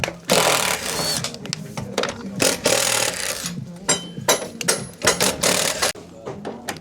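A power driver backs screws out of a timber conservatory roof at close range, producing repeated bursts of whirring and ratcheting separated by short pauses.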